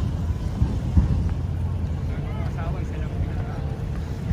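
Water rushes continuously through a drainage channel partly blocked by large chunks of rock, a constant low roar under a person talking nearby.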